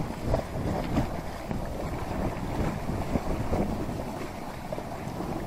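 Wind gusting across the microphone while fishing from a small boat at sea, a continuous buffeting roar with faint water movement underneath and no talking.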